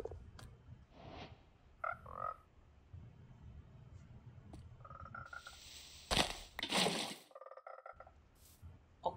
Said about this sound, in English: Check out the frog in the bucket.